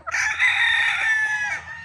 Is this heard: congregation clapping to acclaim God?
no